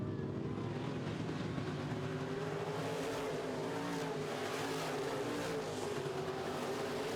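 Midwest modified race cars roar around the dirt oval at Red River Co-op Speedway in a continuous, loud engine drone, several cars blending into one steady racing din with no break.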